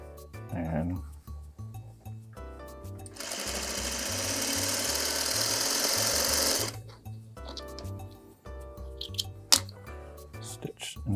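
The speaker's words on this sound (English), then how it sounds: "Let's sew." A sewing machine stitches fabric in a steady whirring run of several seconds, close and loud, framed by shorter bursts and clicks, with a soft underlying music bed.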